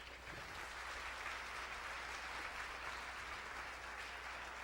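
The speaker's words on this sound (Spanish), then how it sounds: "¿Cuánto le da un aplauso al Rey, hermano?" Faint church congregation applause for the King, a steady wash of distant clapping over a low hum, even and unbroken throughout.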